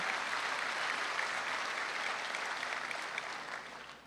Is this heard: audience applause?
yes